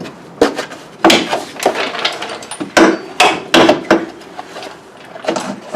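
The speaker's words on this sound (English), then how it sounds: "Slide the winch in here." A winch is slid into its mounting bracket on a 2004 Outlander 400 ATV. Close, loud metallic knocks and thuds land in an irregular series, with hard clunks separated by brief pauses.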